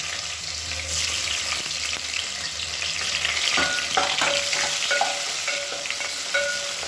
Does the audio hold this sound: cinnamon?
yes